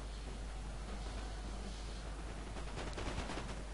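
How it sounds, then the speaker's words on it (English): Musket volleys fire during a Napoleon: Total War battle as a faint, distant, crackling rattle of gunfire under a constant wash of battlefield noise, thickening toward the end. "Here he is shooting the King German Legion foot back in the flank to drop the morale"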